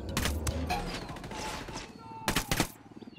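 Gunfire in the video game Ghost Recon Wildlands comes as two quick, loud bursts, one at the start and another near the end, over a rumbling game background.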